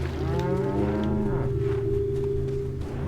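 Cattle mooing in Resident Evil 4, a long, loud, sustained low bellow with harmonic overtones that holds steady for about three seconds, alone with no talking.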